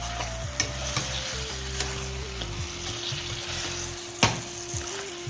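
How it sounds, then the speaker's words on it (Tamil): Tomatoes sautéing in a pan for a mutton head gravy, a steady close sizzle with occasional stirring scrapes and clinks, no talking. "இது கொஞ்சம் நல்லா வதங்கட்டும். இந்த தக்காளி அதுவும் சேர்ந்து கொஞ்சம் வதங்கட்டும்."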